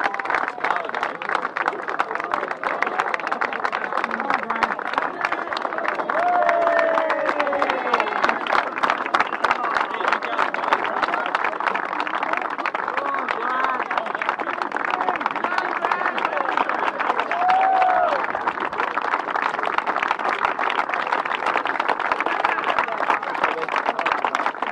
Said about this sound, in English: A big round of applause for Gran, who was here for the week